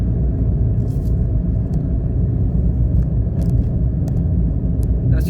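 A Mitsubishi Mirage engine holds around 2,500 RPM while climbing a mountain hill, a steady loud low rumble with road noise running throughout and no voices.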